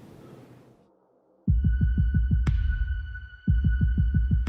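A steady, rhythmic heartbeat thuds loud and close as low repeated pulses, with a brief pause between two runs of beats and a faint tonal hum behind them.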